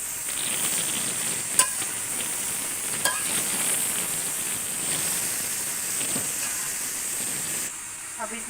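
Shredded cabbage tossed and stir-fried in a hot pan hisses and steams steadily, with a few spoon clinks and scrapes scattered through; no one speaks.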